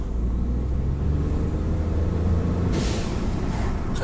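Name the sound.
Ford F-150 EcoBoost engine revving in a video game mod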